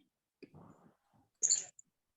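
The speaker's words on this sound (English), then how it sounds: "I'm typing it over there." Quiet computer keyboard typing, a few soft clustered keystrokes with short pauses, faint and close, with no talking.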